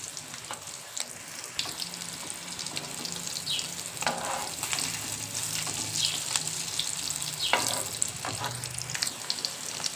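Stuffed bitter gourds fry in a pan over low to medium heat, a soft steady sizzle with occasional scraping and crackling bursts, moderately close and quiet, no voices.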